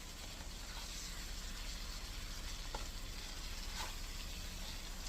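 Lobster, crab legs and shrimp simmer in butter for a cabbage boil, giving a steady, close bubbling sizzle with a couple of faint clicks, alone and without talk.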